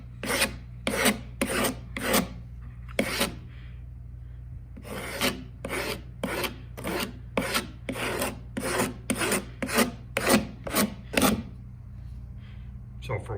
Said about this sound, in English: I have a wood rasp that I have used, and all that just cleans up the edges